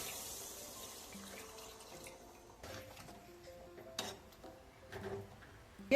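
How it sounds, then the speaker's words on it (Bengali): Water pours into a pan of browned, cooked chicken, a close, steady splashing and trickling over about six seconds that swells in bursts, with no talking. "মাংসটা কষানো হয়ে গেছে এবারে জল দিয়ে দিলাম"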